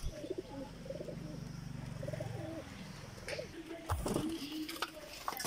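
Pakistani teddy high flyer pigeons coo in soft, repeated rolling calls close by, with a rustle and clatter near the end.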